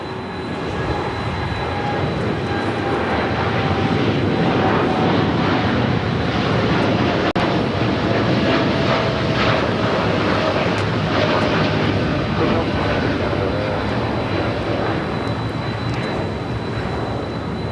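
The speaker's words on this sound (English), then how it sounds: "You're hearing that 767 currently on Kilo" A LATAM Airlines Boeing 767 taxiing at LAX, its jet engines producing a loud, steady roar with a whining tone that holds for the whole stretch.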